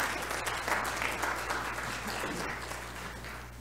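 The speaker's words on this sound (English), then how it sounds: "Everyone give them a little round of applause." A church congregation applauds the chancel choir during a traditional worship service, a steady patter of many hands clapping that slowly fades, under a low hum in the room.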